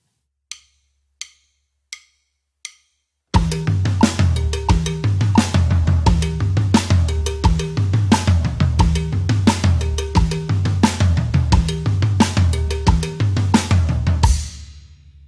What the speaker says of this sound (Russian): перенес левую руку с хай-хета на ковбелл, а левую ногу на вудблок. И теперь могу сыграть фантомные ноты на ковбелле